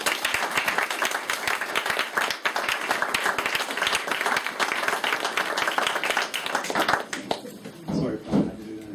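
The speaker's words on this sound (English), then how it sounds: "I think we should give my dad a little round of applause." Close, energetic clapping from a small audience during a speech event, steady for several seconds before stopping, after which a voice speaks.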